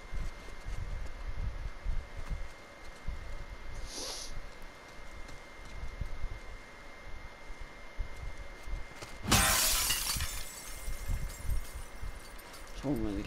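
Glass smashes in The Last of Us Part II: a loud, bright broadband crash bursts out near the middle and scatters into a few seconds of tinkling debris over a low game ambience.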